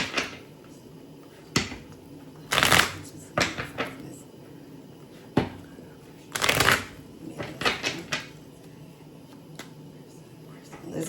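Tarot cards are shuffled in several brisk close riffles and shorter flicks separated by pauses, with faint handling noise in between.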